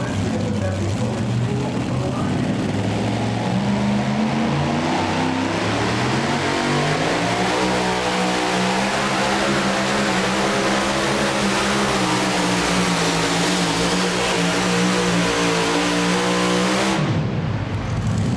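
A super modified two-wheel-drive pulling truck revs hard at a truck pull, its engine roaring loud and continuous as the pitch climbs steadily, then cutting off abruptly near the end.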